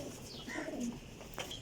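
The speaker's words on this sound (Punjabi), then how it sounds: "ਲੋ ਜੀ ਸਿਆਲਕੋਟੀ ਜੌਂਸੀਰਾ ਕਬੂਤਰ" Sialkoti Jonsira pigeons softly cooing close by, a few low murmuring coos with a brief faint chirp near the end.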